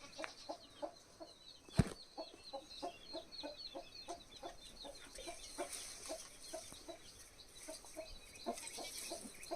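Hens clucking near a mother hen and her chicks as they peck at scattered feed, a soft repeated stream of clucks and chirps at a steady pace, with one sharp knock partway through and no speech.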